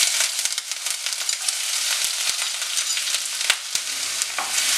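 Chopped ginger and crushed garlic sauté in hot oil for a soya chunks roast, making a loud, dense, continuous sizzle up close, punctuated by a few sharp taps of a spatula against the pan.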